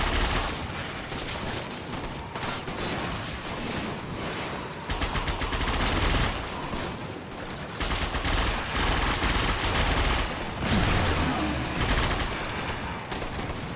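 Dense, sustained weapon fire in the Warframe video game, rapid shots blending into a loud continuous barrage with brief gaps.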